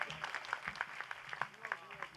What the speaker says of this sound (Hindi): एक बार ताली बजा दो उस व्यक्ति के लिए